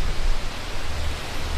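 Outdoor jungle ambience picked up by a Rode VideoMic Go II shotgun mic, close to a river: a steady, dense broadband hiss like rushing water, continuous and unbroken, with low rumble underneath and no voices.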